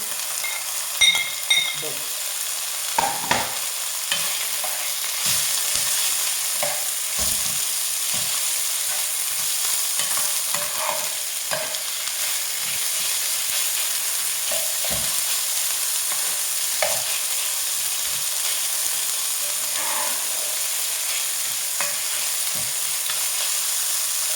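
Hotdog slices frying and being stirred in a pan for a creamy angel hair pasta dish, a steady close sizzle broken by scraping stirs and clinks of the utensil.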